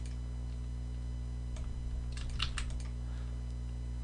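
Keys tapped on a computer keyboard during a coding demo, a short cluster of light clicks ending with a press of the Enter key, close and fairly quiet over a steady low hum.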